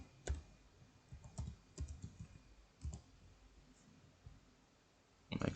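Someone types on a computer keyboard while installing Visual Studio Community 2022, with soft irregular key clicks in short bursts and pauses, quiet and close, with no talk.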